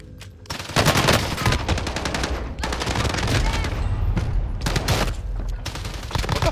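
Rapid bursts of gunfire in a video game shootout, loud and close, with sustained automatic fire broken by short pauses and no talk over it.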